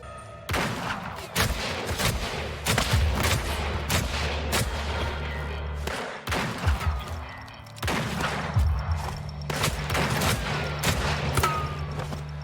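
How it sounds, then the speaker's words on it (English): Rapid bursts of gunfire in the video game Weird West crack and boom in a heavy exchange, with short pauses between volleys and loud impacts throughout. "Then you get a proper gunfight."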